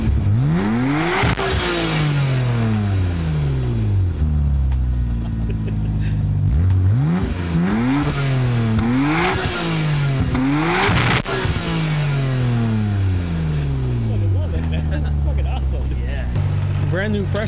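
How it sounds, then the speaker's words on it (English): Big-turbo Subaru STI engine, a fresh build, revved in a series of strong rising and falling blips, loud and close, with people talking over and between the revs. "Car's all warmed up. Let's give it a couple revs."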